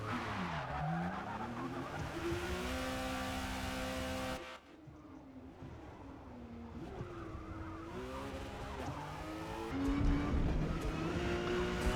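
Porsche 911 GT2 engine in Forza Motorsport R class racing at Kyalami, loud and continuous, revving up and down through gear changes with tire squeal and skidding, dipping briefly before climbing again.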